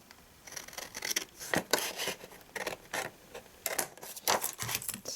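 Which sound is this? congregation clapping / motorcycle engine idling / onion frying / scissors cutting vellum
scissors cutting vellum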